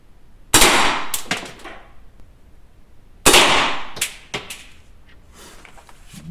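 An M16A1 rifle firing simmunition training rounds gives two sharp, loud cracks about three seconds apart, each followed by quick smaller clacks and a brief rattling tail.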